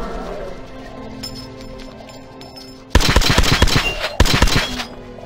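Bursts of rapid automatic gunfire from the Metro Last Light game, loud and close, come in two volleys after a quieter stretch of ambient hum.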